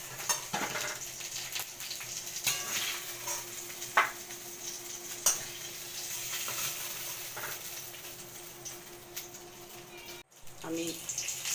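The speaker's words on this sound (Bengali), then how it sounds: "আমি এলাচ, দারচিনি, লবঙ্গ, 5 ফোড়ন দিয়ে দিলাম।" Whole spices (cardamom, cinnamon and cloves) with onion frying in ghee for a homemade chicken roast give a steady soft sizzle, with clinks of a stirring spoon and occasional sharper taps.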